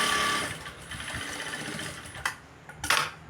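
A sewing machine runs steadily while stitching a blouse, giving a continuous close mechanical whir that breaks into short bursts near the end.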